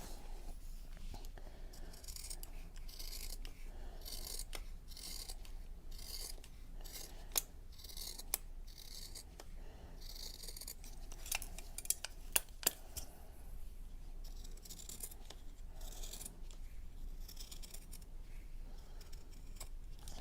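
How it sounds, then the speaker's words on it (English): Scissors slice through a T-shirt into 1-inch strips, giving a steady run of close, rasping fabric snips with a few sharper clicks from the blades, heard alone at moderate loudness. "What we're going to do now is cut 1 inch wide strips all the way up"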